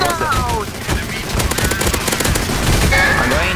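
Rapid automatic gunfire aimed at zombies in Counter-Strike: Source, a loud continuous rattle of close shots with voices calling out beneath it.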